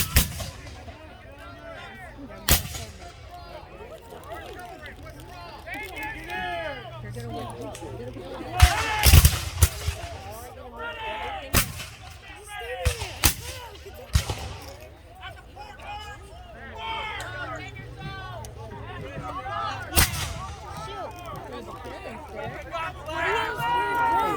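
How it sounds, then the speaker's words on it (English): Cannon and rifle fire at a Civil War reenactment: several sharp, loud reports and booms scattered at irregular intervals, some in quick clusters, over steady crowd chatter and nearby talking. "Take the cannon. You see the smoke coming out of the top of the cannon?"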